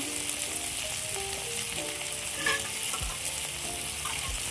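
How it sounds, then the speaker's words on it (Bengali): Chilli, cumin and turmeric powders frying in a pan for a fish-roe curry, a continuous hiss of sizzling oil with scraping stirs and a couple of dull knocks near the end, close and without talk. "এবার সবগুলো ধরে ভেজে নিতে হবে।"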